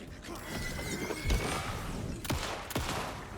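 Gunfire in Alan Wake 2 cracks in a few separate shots over a busy bed of mechanical clatter and ambient noise, with a short gap between bursts.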